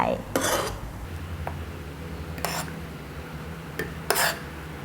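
Milk foam is spooned onto an iced cappuccino in a glass, giving three bright clinks of a spoon against the glass spread over a few seconds above a low background hum.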